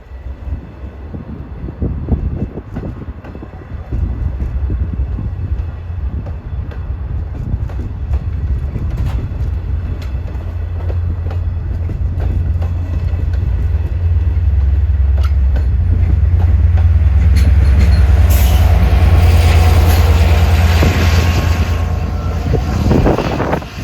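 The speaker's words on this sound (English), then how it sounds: "2707 arriving Babylon on his long trip from Montauk on track 2" A Long Island Rail Road train from Montauk departing Babylon station on a cold, snowy, windy day: a long, loud, steadily building rumble of engine and rolling wheels, close by, with wind buffeting throughout.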